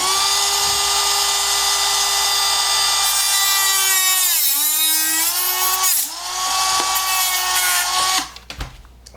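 A high-pitched power tool whines loud and close while trimming foam on a Ritewing Mini Drak flying-wing kit, a strong sustained tone that dips and wavers under load midway, then resumes before stopping near the end.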